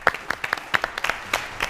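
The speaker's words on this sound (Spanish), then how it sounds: "vamos a darte un aplauso" A brief round of studio audience applause on a Spanish television game show, scattered individual claps ringing out over about two seconds, close and moderately loud.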